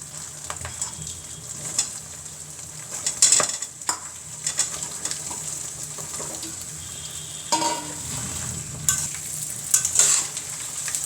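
Cut pieces of half-ripe mango, skins left on, tumble into a pan over a medium gas flame and are stirred, giving a steady close sizzle with scraping spoon strokes and a few louder clatters.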